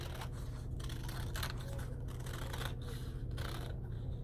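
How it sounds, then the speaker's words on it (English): Scissors cut a paper fishbowl craft out along its black lines, giving a steady, close snipping and scraping that runs continuously with no talking. "you are going to cut your fishbowl out along the black lines"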